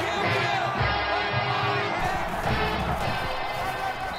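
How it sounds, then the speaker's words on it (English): A loud, constant stadium crowd roar fills the NCAA Football 20 simulation of Ole Miss at Alabama, a dense wash of cheering with no break. "The crowd really making it difficult."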